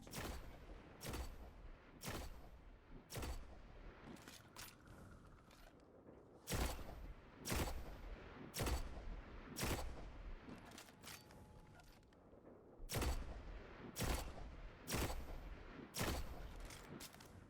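Sniper rifle fire in Destiny 2, a series of sharp, loud shots repeating roughly every second or two with brief gaps, each shot followed by a short echoing tail and faint mechanical clicks between.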